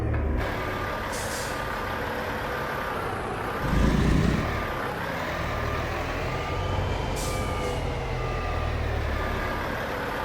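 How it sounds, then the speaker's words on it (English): A Kenworth W900 King-of-the-Road TX Edition in a truck-driving video game creeps forward with a low diesel rumble, a repeating reversing beep, short high air hisses and a heavier air-brake release burst in the middle. "That was me on the brakes, by the way."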